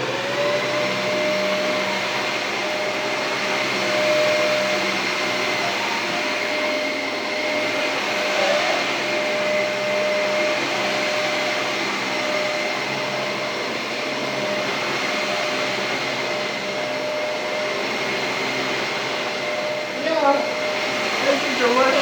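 A Dyson Ball upright vacuum cleaner runs steadily for the whole stretch, a loud, even motor whine with a constant airflow hiss and a few small bumps near the end, with no voices over it.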